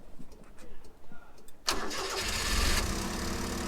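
A 1991 Honda Acty kei van's single-carburetor engine cranks and catches, jumping from quiet background with voices into a steady, buzzy idle close by.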